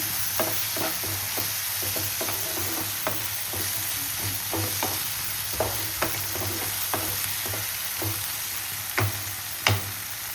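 Ginger paste frying for chicken pulao: a steady sizzle with repeated sharp scrapes and taps of a spoon stirring in the pan, close and continuous throughout, with no voices.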